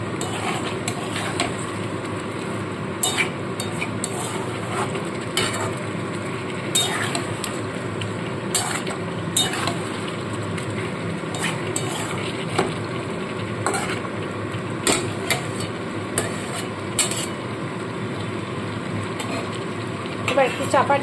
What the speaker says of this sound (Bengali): দিয়ে ভালো করে মিশিয়ে একদম কম আঁচে সমানে কিন্তু এইভাবে মশলাটা কষাতে থাকবো